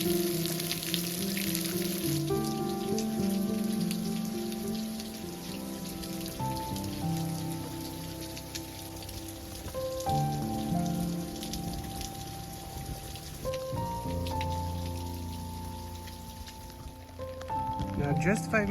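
Rain pours down on a homestead, a dense, steady hiss of drops on surfaces that holds for the whole stretch, with a faint musical tone and a voice occasionally underneath.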